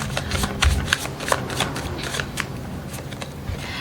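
Zodiac tarot cards are shuffled up close in a string of quick riffling and slapping bursts, crisp and fairly loud with no speech over them.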